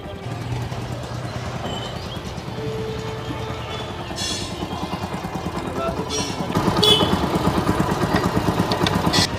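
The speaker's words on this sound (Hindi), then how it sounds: "इंजन के अंदर आवाज आ रही है" A motor engine runs steadily with a rhythmic chugging pulse and an odd internal noise, growing louder about two thirds through; a tonal hum sits above it early on.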